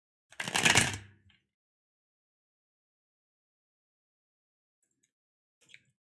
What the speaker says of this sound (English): One more shuffle for the first of the day today.